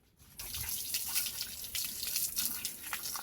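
Water pours into a vessel in an outdoor home kitchen, starting abruptly after a brief silence and continuing as a steady splashing gush with small trickling bursts, close and alone.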